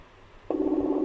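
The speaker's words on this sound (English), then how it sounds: "It's loading and it's ringing." A soft electronic ringing tone starts abruptly after a quiet moment and continues steadily, like an outgoing call waiting to connect.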